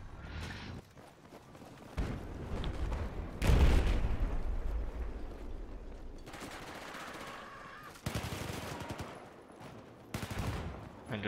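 Gunfire and cannon blasts from a multiplayer war game at a tournament final come in heavy bursts of rapid rattling shots and booming impacts, loud and dense, with voices mixed in.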